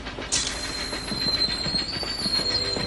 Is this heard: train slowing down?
yes